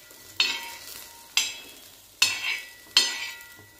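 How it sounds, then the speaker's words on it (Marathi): Chopped onions frying in a little oil in a pan while cooking a drumstick and potato vegetable dish, with a steady soft sizzle broken by four sharp stirring scrapes at regular intervals, close and fairly quiet. "कांदे इथे छान भाजत आलेले आहेत"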